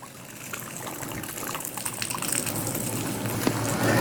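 Rinse water sloshes and gushes out of a mosquito sprayer's applicator container, a close, splashy pour that grows steadily louder as it empties.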